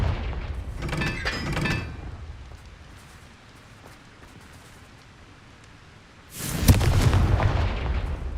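Confringo blasting spells exploding in a Harry Potter video game: a crackling burst early, a quiet lull, then a sudden loud explosive boom with rumbling debris near the end, no talk.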